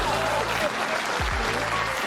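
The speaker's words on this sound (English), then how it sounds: "Please clap." Audience applause at a live show, a dense steady wash of clapping with musical tones and voices running under it, close and fairly loud for about two seconds.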